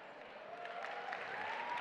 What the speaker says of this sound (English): So quick round of applause for the team.